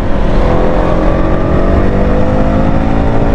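A Suzuki Burgman Street EX 125 scooter engine held at high revs, a loud, close, continuous droning whine with a lagging, uneven throttle response.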